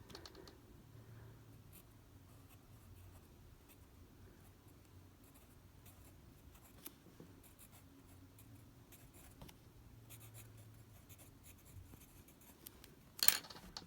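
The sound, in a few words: pencil writing on paper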